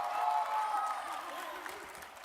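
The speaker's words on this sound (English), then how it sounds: "Of course, cheer all you want." Crowd at the SXSW Gaming Awards 2016 cheering and clapping in a big hall, a steady dense roar of applause and whoops that holds loud and then eases off slightly.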